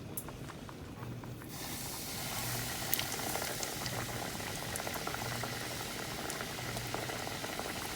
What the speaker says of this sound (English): I'm going to go ahead and lower a couple of pieces of catfish into the oil.